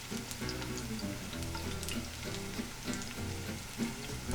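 Thin pieces of food fry and brown in a hot pan, a dense, continuous sizzle with busy crackling and occasional stirring clatter, close and fairly loud.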